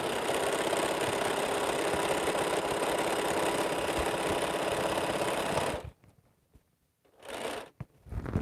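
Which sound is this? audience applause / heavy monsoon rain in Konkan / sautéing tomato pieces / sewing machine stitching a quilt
sewing machine stitching a quilt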